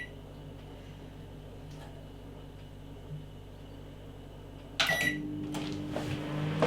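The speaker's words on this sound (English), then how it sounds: "We got the microwave working." A microwave oven starts up after a quiet stretch of faint background hum, a beep or click followed by a steady, low running drone that continues to the end.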